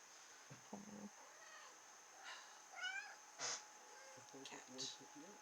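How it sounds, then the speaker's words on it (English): A cat meows several times in short, separate calls, with soft voices talking around it at a low level. "Cat."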